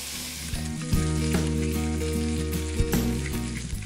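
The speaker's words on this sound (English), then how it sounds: "Now take all this chopped material and put it in the pan with the help of the spoon." Chopped ingredients sizzle steadily in a hot pan while a spoon stirs them, with a few louder scraping knocks partway through; close, continuous frying and no voices.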